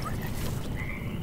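A toad croaks in a dark fantasy game world, a low, steady, rattling croak that continues through the whole short moment over ambient background noise.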